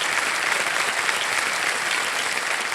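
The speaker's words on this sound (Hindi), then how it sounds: "तालियां बच जाए इनके लिए।" A studio audience at a television quiz show claps steadily, a dense, even wash of applause sustained for a few seconds with no voices over it.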